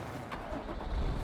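A car in the battle royale game Warzone drives with a steady low engine rumble and road noise, close and moderately loud, for a brief moment.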